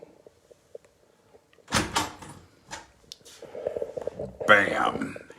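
A heavy bunker door being opened, a sharp metallic clunk of the handle followed by scraping, creaking movement and a loud thud, with someone talking over and between the sounds.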